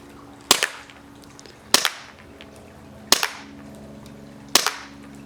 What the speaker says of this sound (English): Going with Glock using green gas. Again, 4 shots.